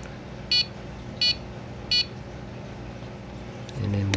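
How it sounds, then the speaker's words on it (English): A Robo-Tank auto top off controller gives three short, evenly spaced electronic beeps, fairly close and clear over a low background hum, with a brief handling noise at the end. "So you can come in here, push this, it should be 5 beeps."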